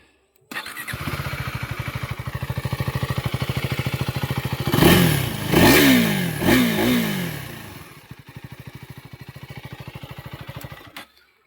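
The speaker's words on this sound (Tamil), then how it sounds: "த்ராட்டல் சவுண்ட் எப்படி இருக்குது அப்படின்ட்டு கேட்டுருங்க." A KTM Duke 390 Gen 3 motorcycle idles close by, then gets three or four sharp throttle blips that rise and fall in pitch before settling back to a steady idle, with no voices present.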